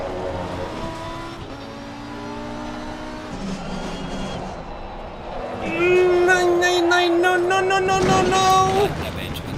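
A Porsche race car engine in a racing sim at the Kyalami circuit holds a sustained, loud tonal whine that climbs sharply near the end, running beneath the driver's speech.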